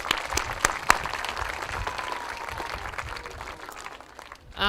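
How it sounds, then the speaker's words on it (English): An audience at a middle school awards ceremony applauds the high school band, a dense wash of clapping with a few sharp, close claps standing out, tapering slightly toward the end. "let's clap for them"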